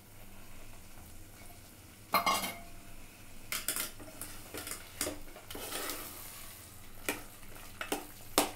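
A spoon stirs mutton sukka with fresh coriander in a pan, with scattered scraping clinks of metal against the pan over a faint, quiet sizzle, close by and without talk.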